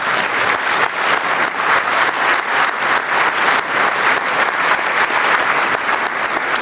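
An audience at a New Year's greetings ceremony breaks into loud, sustained applause, dense rhythmic clapping filling the room for several seconds with a steady crowd wash.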